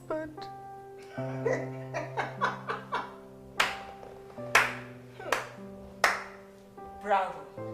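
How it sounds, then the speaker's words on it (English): Slow, mocking applause from people in a tense domestic drama scene, sharp separate claps landing about once a second over a sustained musical score, with voices faintly present. "Clap for yourself."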